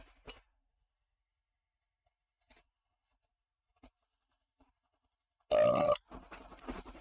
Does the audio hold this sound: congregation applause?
no